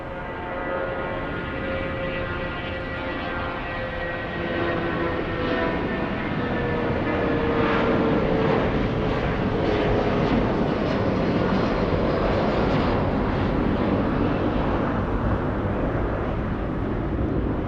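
Boeing 757 airliner taking off at LAX, a loud sustained jet engine roar with a slowly sliding whine, steady and powerful throughout with no voices.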